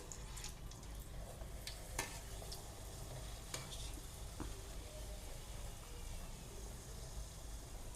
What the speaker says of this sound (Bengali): এইভাবে করে আমি সবগুলো ভেজে নিই